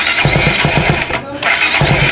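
A Bajaj NS200 motorcycle engine, just overhauled, starts up close by with rapid, loud firing pulses and a rough, busy chatter that briefly dips before picking up again.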